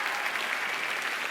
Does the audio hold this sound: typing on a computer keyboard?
no